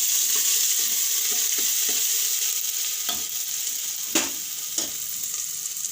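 Curry leaves, chillies, ginger and garlic sizzle in hot oil in a steady, loud hiss, with soft clinks of a spoon stirring now and then.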